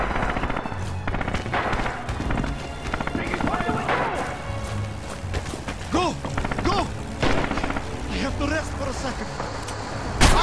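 Scattered gunshots in a Red Orchestra 2 multiplayer battle crack out irregularly amid a dense wash of combat noise, with voices shouting and talking throughout.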